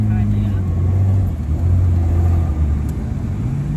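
Jeep Wrangler off-road vehicles driving on sand near Las Vegas, a loud close engine drone with steady low rumble and shifting pitch.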